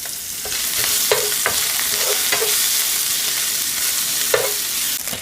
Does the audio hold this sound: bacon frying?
yes